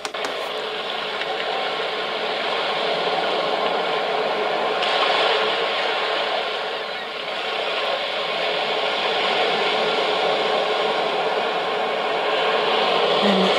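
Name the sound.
ocean waves sound from a white noise sleep sound machine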